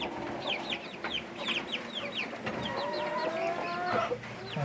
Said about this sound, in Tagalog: yan yung na-produce natin na sisiw sa experiment natin mga Kabi Farming